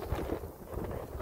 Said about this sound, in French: Il y a un peu de vent, mais on est pas mal.